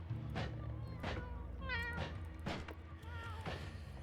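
Cat meows in a video game mod play one after another, about five or six bright, clear calls spaced through the moment over a low background rumble.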